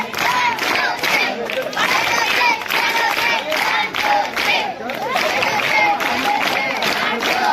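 Students clap at a Sarva Shiksha Abhiyan school event in Chegur, a loud, sustained burst of applause in pulsing waves, mixed with cheering and crowd voices.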